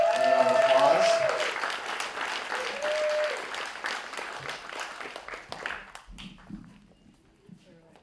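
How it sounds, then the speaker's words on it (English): Applause for a panel of discussion guests at a Q&A event fills the room loudly at first, then thins and fades over several seconds as a few voices begin to talk. "And a round of applause."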